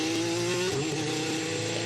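Formula 1 car engine with a seized gearbox, a steady buzzing drone that wavers in pitch, as if catching briefly before fading, heard close and loud for under two seconds.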